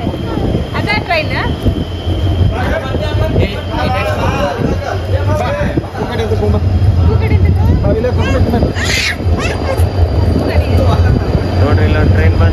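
A train rolls past with a continuous heavy rumble and clattering wheels, loud and close, while people talk and chatter over it the whole time.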